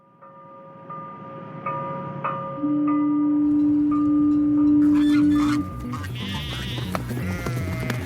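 Sheep bleat nearby and in the background, one long drawn-out bleat standing out over a continuous mix of farm animal calls.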